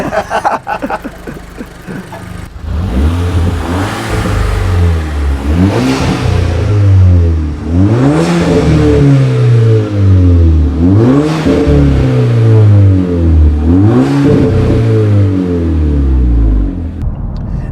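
A car engine revs up and down repeatedly as it drives, whining through rising gear changes, loud and close from inside the car, heard after an engine carbon clean.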